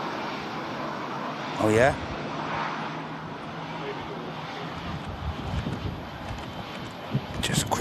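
An EasyJet airliner arrives at Manchester Airport in strong Storm Darragh winds, its engine roar steady and mid-distance beneath heavy wind buffeting, with a brief whistling sweep early and a short spoken exclamation.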